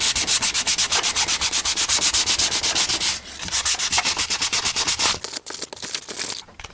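Sandpaper scrubbing a painted engine bay of a C10 truck by hand, a fast, even back-and-forth rasp repeated dozens of times up close, with a couple of brief pauses.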